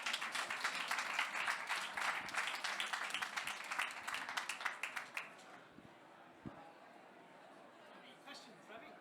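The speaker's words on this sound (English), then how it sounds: "This is where you clap." Scattered audience applause follows a talk on digital therapeutics at a mental health show, distinct claps for about five seconds that fade into quiet room murmur and a stray clap.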